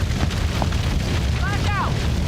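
A grenade blast in a shooter video game, heard as a dense, loud rumbling roar that fills the whole moment, with a brief tonal flicker near the end.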